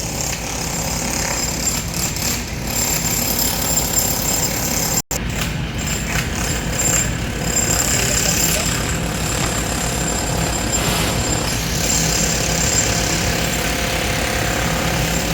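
A crane's hydraulic breaker pounds at a concrete beam in a barangay street, a loud, continuous rapid hammering over a diesel engine drone, broken only by one brief instant of silence.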